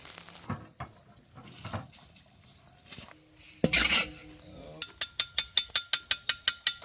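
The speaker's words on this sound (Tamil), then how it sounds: "நல்ல ஒரு ட்ரை கோகனட்டை நம்மளுக்கு கிடைக்கணும் அங்கே வரைக்கும் இதை கிண்டிக்கிட்டே இருக்கும்" Grated coconut is dry-roasted and stirred in a pan: scattered scrapes and clinks of a utensil against metal, a brief louder rattle, then a quick run of evenly spaced sharp knocks, close by with no talking.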